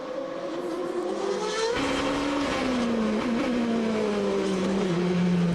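GP2 race cars roar through the tunnel and along the harbor at the Monaco street circuit, engines screaming loud and close as they shift up and down in pitch over constant engine noise.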